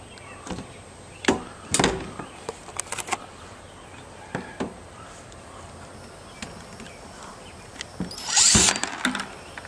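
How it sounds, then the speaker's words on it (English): A power drill whirs briefly in a few short bursts among scattered knocks and workshop clatter, with a louder rasping burst near the end. "And then we'll just drill it into place."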